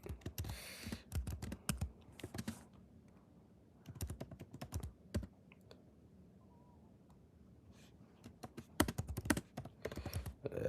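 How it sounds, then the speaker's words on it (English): Typing on a computer keyboard: bursts of quick, close key clicks that pause in the middle and then resume, with no talking over them. "I'm just typing a message quick"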